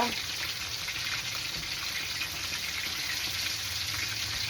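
Food frying in oil in a pan, a steady dense sizzle with a continuous bright crackle, close and even in loudness throughout.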